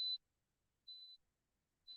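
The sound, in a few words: dishwasher beeping when its cycle has finished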